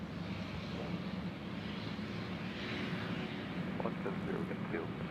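A United Boeing 737-700 airliner takes off from Nashville International Airport, a distant, steady rumbling jet roar heard faintly beneath ongoing talk.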